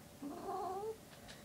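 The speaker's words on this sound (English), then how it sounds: "This is my cat." A house cat gives a single drawn-out, wavering meow lasting under a second, fairly faint and close in a quiet room. A couple of tiny soft noises follow.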